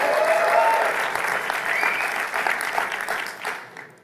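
A conference audience applauds a presenter before a live demo, a full burst of clapping that gradually thins and fades out at the end.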